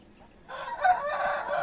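A rooster crows loudly after a brief quiet moment, its call drawn out over clucking chickens nearby.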